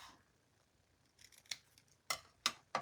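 Scissors cut small Easter decoration leaves in half, a few soft snipping sounds followed by several sharp, close snips in an otherwise quiet room.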